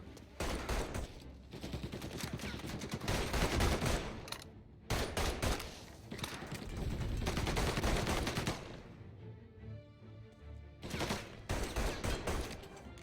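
Heavy gunfire fills a Mafia Definitive Edition shootout, with sustained volleys of close, loud shots and automatic bursts broken by short lulls, then renewed firing toward the end.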